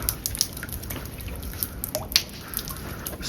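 Water drips from the rock ceiling inside Hang Tiên Cave in Phong Nha, Vietnam, with faint, irregular, echoing plinks scattered over a quiet, hushed background.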